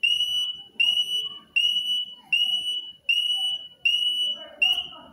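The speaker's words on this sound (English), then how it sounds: "this is how to connect your alarm with a timer" An electronic alarm wired to a timer set to ten seconds sounds a shrill, steady beep that repeats in six even pulses, loud and close, with faint low background noise beneath.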